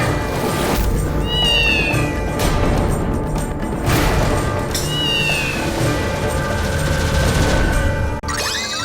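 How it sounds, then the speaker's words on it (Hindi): A black cat meows twice, a few seconds apart, each a short rising-and-falling cry heard over a steady busy background of noise and music. "काली बिल्ली ने रास्ता काटा"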